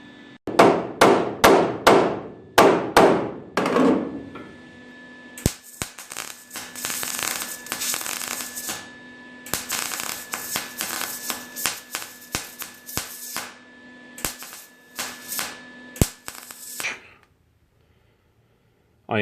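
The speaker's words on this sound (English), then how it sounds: "I am spot welding the dash to the window channel." Rapid sharp crackling bursts of a spot welder tacking a car dash panel to the windshield channel on a 1968-74 GTO-type body, a quick cluster of loud pops followed by longer sputtering tacks, close and with no talking.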